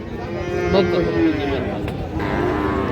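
Cattle moo loudly close by at a winter cattle market selling Friesian and crossbred bull calves at Raniganj, amid a busy crowd of voices in the background.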